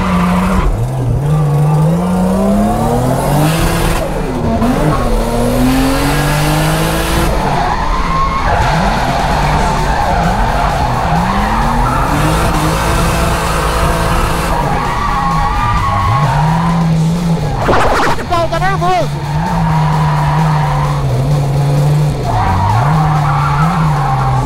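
Nissan 350Z drift car revving hard and skidding, its engine note rising and falling in repeated sweeps over steady tire squeal, loud and close throughout with no talk.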